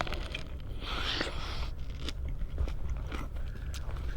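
Close bites into a ripe late-season plum, a few soft crunching and chewing sounds over steady low background noise, with no talking.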